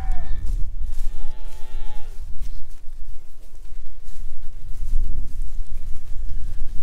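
Cattle on a farm, one loud drawn-out moo near the start over constant windy outdoor rumble, followed by fainter lowing further off.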